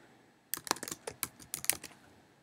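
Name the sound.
typing a search on a computer keyboard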